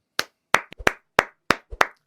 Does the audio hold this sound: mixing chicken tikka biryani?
no